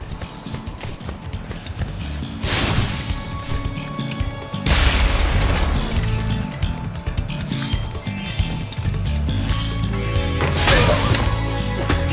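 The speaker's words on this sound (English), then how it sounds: "Rhinox, I've been trying to clear the way with this cannon" Cannon fire in the Spyro Reignited Trilogy video game: several heavy booming blasts at intervals, layered over busy in-game music and clattering effects.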